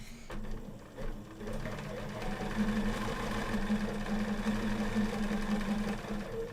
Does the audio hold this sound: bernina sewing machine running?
yes